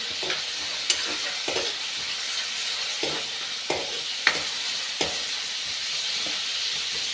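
Boiled potatoes fry in oil in a pan while soya chunk curry is being made, with a steady close sizzle, soft stirring scrapes and a few sharp clicks of the spoon against the pan, and no voices.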